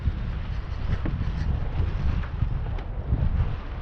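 Wind buffets the microphone in a steady, rumbling roar with gusty fluctuations while fishing outdoors, with no talking.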